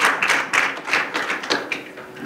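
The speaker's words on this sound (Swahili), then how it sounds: "Kwanza kwa hili naomba tumpigie makofi mkurugenzi." An audience at a meeting on international avocado market access claps for the director, a short, uneven patter of hand claps at close range.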